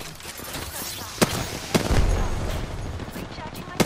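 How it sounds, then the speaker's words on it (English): Gunfire from a video game firefight while the player is under attack, with a few sharp shot cracks rising out of a continuous noisy battle background. "Listen up, I'm getting shot at."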